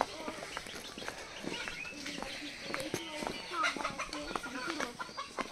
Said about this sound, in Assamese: ডাঙৰ মুৰ্গী